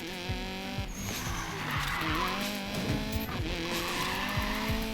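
A car drifts in the racing game Need for Speed Payback, with a revving engine whine and continuous tire squeal running throughout, loud and close, with no speech.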